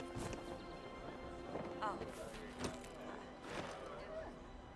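Horse hooves gallop in the video game Dragon Age: Inquisition, a steady clip-clop running under a busy game soundscape with some voice-like sounds and scattered thuds.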